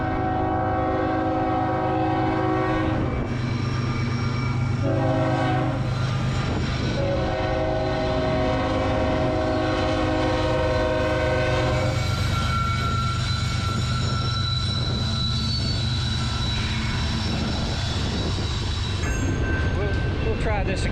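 A train rolls past beneath a pedestrian walkway over a road, a loud sustained rumble with long blaring horn blasts and shifting tones that continue throughout, with talk faintly mixed in.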